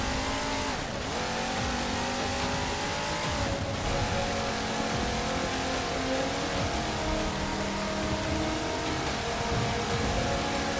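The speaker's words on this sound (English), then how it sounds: "this Warthog sounds terrible" The engine of the Warthog vehicle in the video game Halo 4 drones steadily and loudly throughout, with a buzzy, motorbike-like tone that rises and falls slightly as it drives, with no talking.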